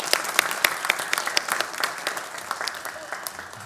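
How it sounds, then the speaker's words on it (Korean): A church congregation gathered for a Friday night service applauds with a steady, fairly close patter of many hands clapping, a dense sustained burst that fades slightly toward the end, with no talk over it. "우리 다시 한번 박수하겠습니다"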